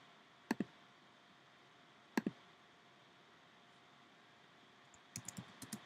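Quiet, close keystrokes on a computer keyboard during a French vocabulary typing game: two short double-clicks spaced apart, then a quick burst of several taps near the end.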